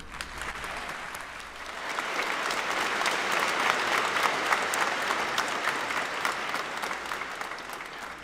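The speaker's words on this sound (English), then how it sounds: "Please join me in a round of applause as we show our appreciation of the Tartan High School staff." A graduation crowd at Tartan High School applauds the school staff, sustained clapping that swells after the first couple of seconds and holds full and steady to the end.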